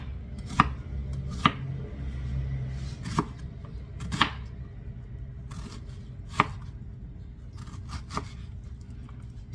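A knife chops through an onion on a cutting board for hash, giving about a dozen sharp, uneven thuds against the board with short gaps between them, close and clear over a low background hum.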